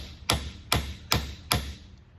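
A hammer strikes a 1/8 punch set on the pin of a 100-year-old hickory golf club head, four sharp, evenly spaced metallic taps ringing briefly, close and clear.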